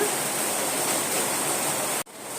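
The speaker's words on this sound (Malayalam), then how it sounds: "ഇപ്പം നമ്മളിവിടെ സ്റ്റീമറിൽ വെള്ളം തിളപ്പിക്കാനായി വെച്ച് കൊടുത്തിട്ടുണ്ടായിരുന്നു വെള്ളം നന്നായിട്ട് തിളച്ചിട്ടുണ്ട്" Water boils hard in a steamer, a loud, steady rushing hiss that stops abruptly near the end as if cut off, with no voices.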